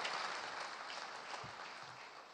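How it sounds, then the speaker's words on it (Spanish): A crowd applauds a school at a state event in Caracas marking the start of the school year, a steady wash of clapping heard from a distance at low level throughout. "le damos un aplauso también"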